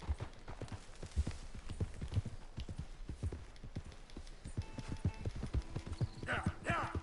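Horse hooves clip-clop in a steady rhythm through Red Dead Redemption 2, with brief game voices and music toward the end.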